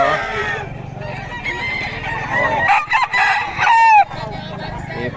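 Clucking and crowing from Spartan game roosters at a busy rooster market, loud and close, with overlapping calls and a chatty background of people.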